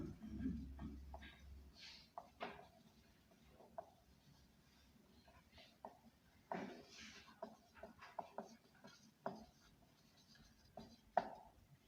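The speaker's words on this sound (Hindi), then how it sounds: "मैं लिखती हूँ यहाँ पे" A marker writes on a board in short, faint scratching strokes and taps with pauses between words, heard close in an otherwise quiet room.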